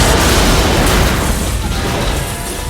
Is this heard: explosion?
yes